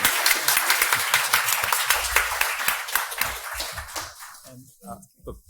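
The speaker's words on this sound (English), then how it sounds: "give them a huge round of applause" A room applauds a bipartisan panel at a Georgetown Law Center event on congressional oversight, with dense clapping for about four seconds before it thins out and a voice begins speaking.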